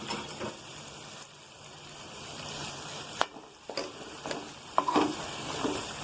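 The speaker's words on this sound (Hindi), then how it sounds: "और अच्छे से मिक्स कर लूंगी तमाम मसाले में।" A spoon stirs achari bhindi, okra frying with pickling spices in a pan, under a soft continuous sizzle, with scattered scraping strokes and louder clatters near the end.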